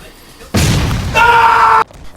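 A cannon fires in the Roblox game Ragdoll Engine, a loud close burst that roars for about a second and then gives way to a bright ringing tone before cutting off abruptly.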